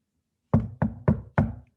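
Four firm knocks on a door in a steady rhythm, close and loud, each a sharp wooden rap with a short decay, against a silent background.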